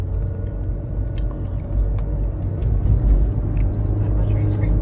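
Steady low rumble of a car driving in a hurry on the road, with constant engine and tire drone from inside the cabin, and occasional faint clicks over it.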